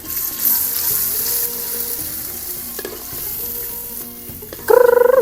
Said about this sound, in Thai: เครื่องพริกตีเขาตำไว้เอาใส่ลงไปเลย